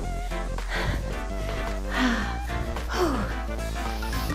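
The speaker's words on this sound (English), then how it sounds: "I'm breathing hard." Heavy, gasping breaths after a circuit workout come close to the microphone, a few hard inhales and exhales over faint background music.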